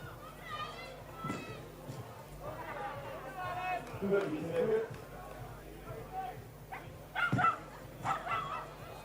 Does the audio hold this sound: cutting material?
no